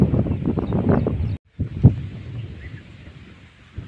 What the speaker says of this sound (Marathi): आता वार आले मित्रांनो